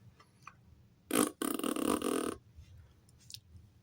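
A man imitates fart noises with his mouth: two loud, raspy, sputtering blurts close to the mic, a short burst followed by a longer buzzing one, with quiet background sounds before and after.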